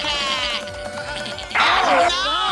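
A cartoon goat lets out loud, wavering bleats, a shorter call followed by a stronger, strained one, close and alone without speech.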